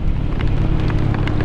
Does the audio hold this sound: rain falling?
yes